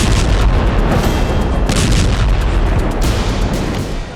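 Heavy artillery shelling and gunfire in a Gaza war zone, a dense, loud, continuous roar of booms and bursts that eases slightly near the end.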